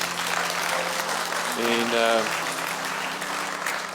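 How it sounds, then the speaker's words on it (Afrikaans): Audience applause at a church service, a broad wash of clapping heard under a speaking voice and background music throughout. "Kom ons gee vir hulle lekker hande klap"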